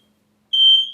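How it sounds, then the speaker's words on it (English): A single shrill, high-pitched electronic beep from a smoke alarm, loud and close, sounding after a moment of silence. "So it's smoke alarm, I think."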